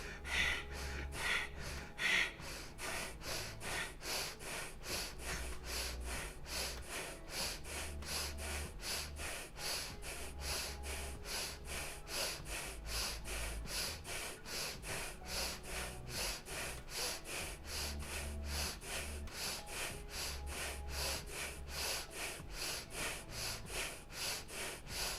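Rapid rhythmic pranayama breathing exercise, dozens of quick, sharp nasal inhales and exhales repeating evenly and close up, with no talking.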